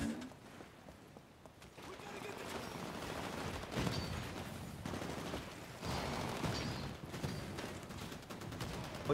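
Rapid bursts of gunfire rattle through a Titanfall firefight, overlapping volleys rising and falling in waves over a continuous mechanical din.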